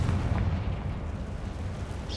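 Fiery Confringo spell blast in Hogwarts Legacy: a sustained low rumbling roar that swells loud and stays dense throughout, with no speech over it.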